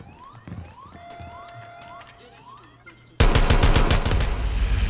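Electronic chirps and tones in the video game Rainbow Six Siege give way to a sudden loud burst of rapid gunfire, shots cracking in quick succession to the end.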